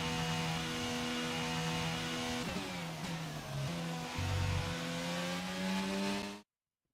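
Red Bull Formula 1 car in F1 22 at the British Grand Prix, a loud high engine whine whose pitch shifts and drops as it passes and changes gear, cutting off abruptly at the end, no talking.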